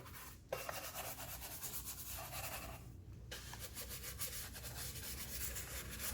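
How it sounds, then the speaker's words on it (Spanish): A detailing brush scrubs grease, dust and dirt off car engine parts such as the intake manifold in a dry, waterless wash, giving steady close-up rubbing strokes with short pauses between bursts. "proceden a tallar de esta manera todas las piezas del motor para que se despegue la grasa, el polvo y la suciedad"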